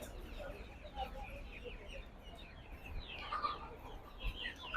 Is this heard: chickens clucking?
yes